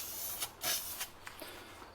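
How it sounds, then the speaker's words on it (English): Spray paint hisses in short bursts onto an early 1930s Coleman 2E camp stove, several quick close passes with brief pauses between them, and no talking. "I'm going to give it a light dusting and then wait about 15 to 20 seconds, and then I will spray the whole thing more thoroughly"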